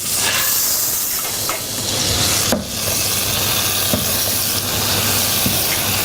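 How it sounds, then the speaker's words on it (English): Wild mushrooms fry in butter in a pan, a loud continuous close hiss and sizzle with a few faint utensil knocks, no talking. "we're going to fry the mushrooms in this butter"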